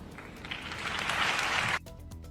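A crowd applauds a speech by Zapatero, a dense steady wash of clapping that swells for nearly two seconds and then cuts off abruptly, leaving quieter room sound.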